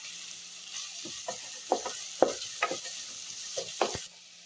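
Onions with ginger and garlic sauté in a pan for a black chickpea curry, a soft steady sizzle broken by several sharp spatula scrapes and clacks before the sound cuts off near the end.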